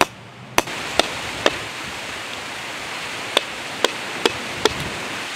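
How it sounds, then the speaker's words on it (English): A coconut shell is scored around its equator with a tool, giving sharp isolated clicks and scrapes at irregular intervals over a steady hiss of background noise. "the idea is just to kind of score along the equator of the coconut shell"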